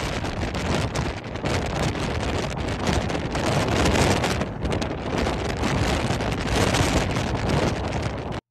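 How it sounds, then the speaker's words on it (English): Powerful gusting wind roaring across the microphone during a Colorado wildfire driven by winds near 100 mph, a loud, continuous buffeting rush with surging swells and no voices. "I'm going to back out so you can hear the power of the wind in this"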